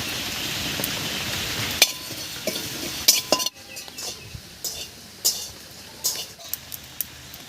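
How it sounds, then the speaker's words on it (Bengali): Whole coriander and cumin seeds dry roasting in a wok with no oil, heard as close, irregular stirring with metallic scrapes and clinks against the pan and occasional sharper knocks. "এবারে শুকনো খোলায় কয়েকটা মশলা ভেজে নেব"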